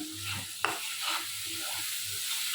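Spice paste with whole garlic cloves being fried and stirred for a salted hilsa curry with potato and eggplant: soft sizzling under repeated scraping strokes of a utensil, with one sharp clink partway through.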